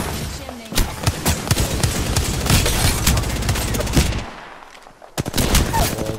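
Wingman pistol shots in the video game Apex Legends ring out loud and rapid, in dense bursts of gunfire over continuous combat noise, with a brief lull before a final cluster of shots.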